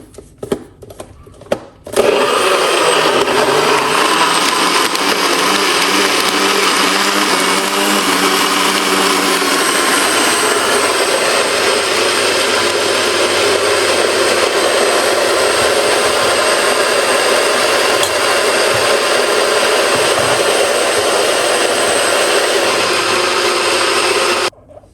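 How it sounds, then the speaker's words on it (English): A kitchen blender runs loud and steady for over twenty seconds after a couple of short clicks at the start, with a harsh whirring roar that stays constant until it cuts off at the end. "Let's blend him up"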